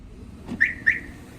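A truck's car alarm system gives two short high electronic chirps in quick succession on unlocking, close and clear over a quiet background.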